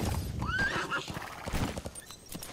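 A horse in Metal Gear Solid V: The Phantom Pain neighs with a rising whinny while hooves clip-clop over the Afghan countryside, close and moderately loud.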